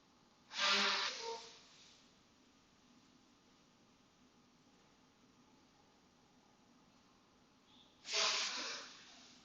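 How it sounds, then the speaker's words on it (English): Two short, forceful nose blows, one near the start and one near the end, separated by a long stretch of quiet background hiss. "I'm just going to go blow my nose really quick"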